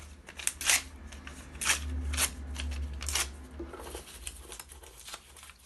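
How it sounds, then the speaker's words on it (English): Paper playing cards being torn up by hand, a run of close, crisp ripping and tearing bursts with rustling in between and no talking. "all you do is you rip the cards up."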